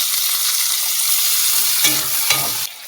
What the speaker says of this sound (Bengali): টমেটো কুচিগুলো দিয়ে দেবো